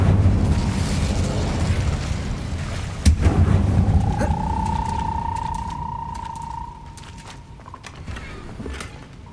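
The Incendio fire spell goes off in the video game Hogwarts Legacy, a sudden burst and boom, with a rumbling roar before it and a long rising whistle-like tone after it fading over several seconds.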